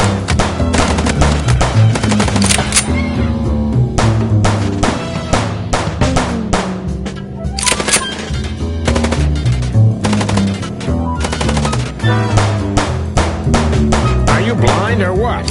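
Machine gun fire in the video game Chicken Police: loud, rapid bursts of automatic shots repeat almost without pause, with a backing music track and occasional game sounds underneath.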